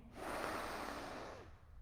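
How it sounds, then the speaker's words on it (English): A single deep inhalation during a hot-flow yoga class, one long soft airy breath drawn in for about a second and a half, close and quiet with nothing else over it. "So take a big breath in and let it go"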